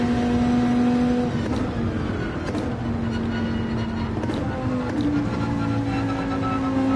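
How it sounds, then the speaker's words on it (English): Race-version V10 car engine in Gran Turismo 7, droning loudly and steadily with shifting revs as it accelerates through corners, close and continuous with no talk over it. "Beautiful sounding V10, if I'm not mistaken."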